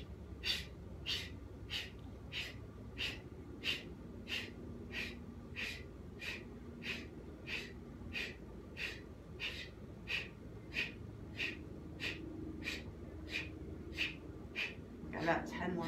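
A yoga practitioner does Breath of Fire, a long run of rapid, evenly spaced forceful nasal exhalations about twice per second, close and steady, over a faint room background.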